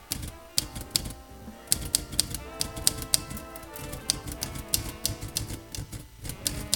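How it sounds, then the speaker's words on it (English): Rapid typing on a computer keyboard in The Journey Down adventure game, a dense, uneven clatter of key taps continuing throughout, close and moderately loud over a low background. "I'm typing up the mayor's schedule for tomorrow so he can pretend he's actually doing some work"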